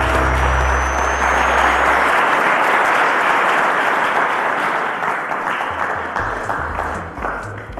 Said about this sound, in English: Ladies and gentlemen, a round of applause for Tamino Ibi.